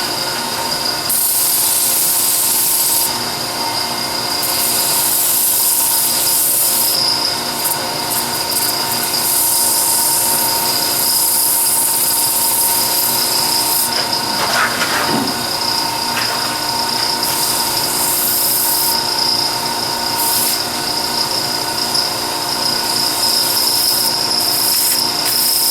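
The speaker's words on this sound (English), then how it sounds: "let me sand that." A power sander grinds steadily against a carved wooden scoop for nearly the whole stretch, a loud continuous whirring hum with a brief rougher scraping moment midway.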